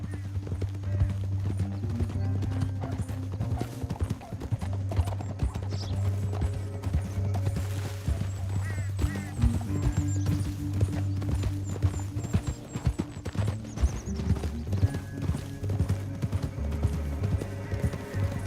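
Horse hooves clip-clop at a steady gallop through Red Dead Redemption 2 gameplay, a continuous rhythmic drumming over low game music and ambience, with an occasional whinny and no talk.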